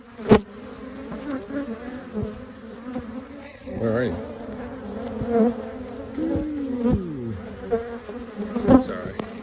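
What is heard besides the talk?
bees buzzing around a beehive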